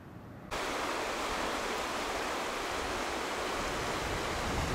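Rushing river rapids roar loud and steady from a packraft's position on the river, starting suddenly after a brief quiet moment and continuing as a dense, unbroken wash of water.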